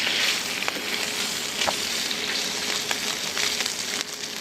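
Bacon sizzles loudly and steadily in a crowded pan at a camp, with dense crackling and a few sharper pops close by.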